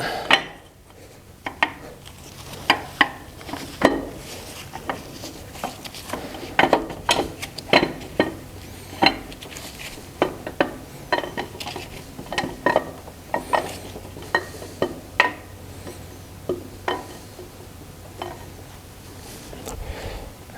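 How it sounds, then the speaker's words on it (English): Camshaft slides out of a Chrysler Hemi 5.7 engine being disassembled, producing a series of metallic clinks and knocks at irregular intervals, close and fairly crisp over a quiet background. "let's go ahead and pull that cam out"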